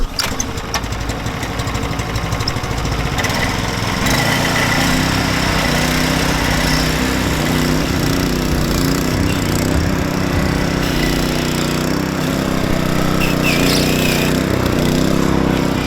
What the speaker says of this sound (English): he's basically coming through with a wire wheel and cleaning out all the cracks that are in the parking lot here